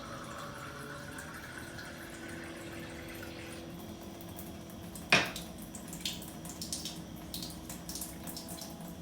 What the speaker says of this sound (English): I'm going to run some water in the glass